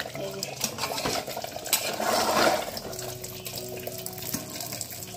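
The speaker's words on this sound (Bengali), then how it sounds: "মাটন কষানো চলছে" Mutton being sautéed and stirred in a pot in a home kitchen: steady scraping and stirring with clinks of metal utensils and a sizzling hiss that swells midway, continuous and fairly close, with no talking.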